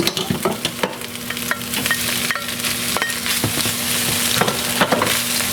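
Rice and omelet egg are stirred in a hot frying pan, a steady sizzle broken by repeated scraping and clicking of the utensil against the pan, close and clear with no talk.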